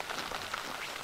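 Rain pattering steadily on surfaces outdoors during a Pennsylvania deer rifle season hunt, a close, even hiss with no voices.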